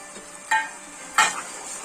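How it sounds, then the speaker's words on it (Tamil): A pan of onions with tomato-coriander paste for a hotel-style chicken gravy is stirred twice, each scrape bringing a brief burst of sizzle over a soft continuous frying hiss. "இந்த தக்காளி பேஸ்ட் வந்து நல்லா இதோட வதங்கி திரும்பி வந்துட்டு கெட்டியாகணும்"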